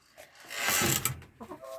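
A chicken lets out a short burst of clucking, with a few softer clucks trailing after, close by in a quiet setting.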